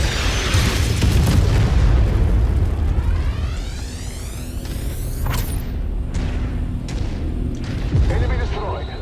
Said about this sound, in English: we are taking an absolute beating because of the artillery